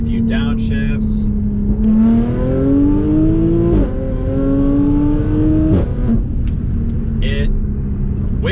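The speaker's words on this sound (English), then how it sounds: "it quickly wakes up and gives you the best exhaust note ever from inside and outside the cabin" An Audi S4 in dynamic mode on an open freeway: its exhaust note swells in two long rising revs, each dropping sharply at a downshift, over a steady engine drone heard from inside the cabin.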